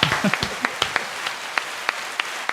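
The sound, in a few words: fake applause sound effect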